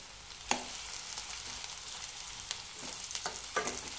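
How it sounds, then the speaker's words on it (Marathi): Two finely chopped onions frying over low heat in hot oil, a soft continuous sizzle with a few faint clinks of a spatula against the pan. "त्या तेलामध्ये आपण 2 बारीक चिरलेले कांदे टाकून घेणार आहोत आणि हे कांदे मंद आचेवर"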